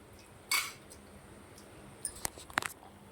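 A spoon stirs Maggi noodles in a miniature kitchen pan: a sharp clatter, a pause, then a quick cluster of light metallic clinks and scrapes, quiet and close.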